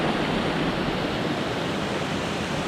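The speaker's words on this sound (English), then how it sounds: "These rapids here." Rapids on a river in Woodland Caribou Provincial Park rush in a steady, loud, dense roar of churning water, continuous and close with no voices over it.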